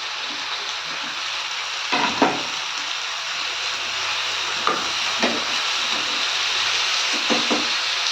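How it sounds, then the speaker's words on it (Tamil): Cut brinjal and potato sauté in hot oil with a continuous soft sizzle and hiss, broken by a few clattering stirs of the spoon in the pan. "இந்த காய் பார்த்திங்கன்னா எண்ணெயில் வந்து நல்லா வதக்கிடணுங்க"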